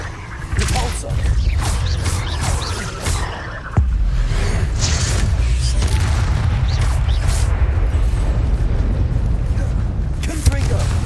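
Battle sounds from Hogwarts Legacy, with a Repulsor spell among them: a dense, loud run of booms and whooshing blasts. A sharp impact stands out partway through, and a low rumble continues under it all.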